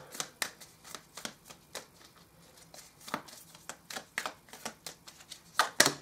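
Tarot cards are shuffled close up, with soft, regular slaps and riffles repeating at a steady pace and a sharper snap at the end.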